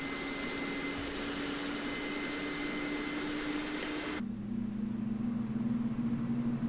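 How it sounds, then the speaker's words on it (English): An Airbus A310-300 jet engine spools up during a cold and dark start in Microsoft Flight Simulator 2020, a steady broadband roar with a tonal whine that abruptly shifts to a lower, deeper hum partway through. "So that engine is going to go ahead and start."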